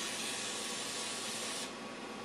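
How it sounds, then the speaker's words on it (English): Lubricant sprayed onto carburetor linkages from an aerosol can: one steady hiss lasting about a second and a half, then a softer tail, close by with no talking. "I forgot to lubricate the linkages, but just spray them here real good"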